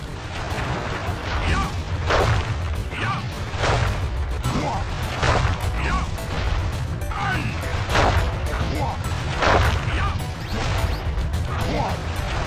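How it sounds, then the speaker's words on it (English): Panda King's firework attack in the Sly Cooper video game brings a rapid series of explosive bangs and crackling bursts, repeating roughly every second over a rumbling background, loud and close. "I will send you to your doom with the beauty of my new firework technique."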